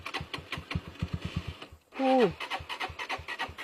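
A motorcycle engine cranks repeatedly without catching, a fast, rhythmic chugging that stutters on and off. A man's short exclamation briefly interrupts it before the cranking resumes.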